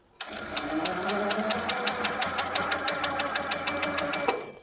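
A sewing machine runs in manual speed mode doing free-motion scribble stitching in a quilting showroom, its needle hammering in a fast, steady, close-up rhythm for about four seconds without pause.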